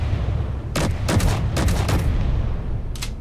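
Assault cannon turret on a Space Engineers ship firing in short rapid bursts, several loud clusters of sharp blasts over a low rumbling hum, then one last brief burst after a pause.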